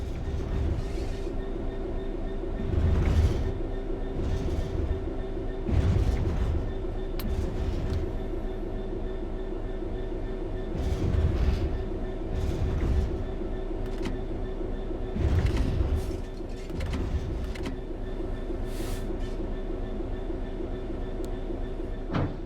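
Simulated train in Train Sim 3 rolling on level track with the throttle off, a steady low rumble and wheel hum with recurring rhythmic clunks from the rails, continuous and without voices.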